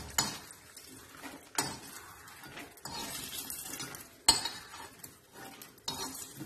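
Hot oil sizzles steadily as a metal slotted spoon scoops fried red chillies from a pan, with sharp scraping clanks of utensil against the vessel recurring every second or so, close and clear.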